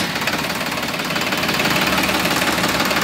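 A new Farmtrac 45 tractor engine idles close by with a steady, rough knocking rumble that continues without pause and no voices.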